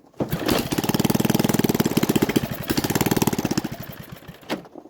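A 5 horsepower lawn mower engine running with no exhaust fitted starts abruptly and chugs with a rapid, loud, even popping pulse for about four seconds, then sputters and stops.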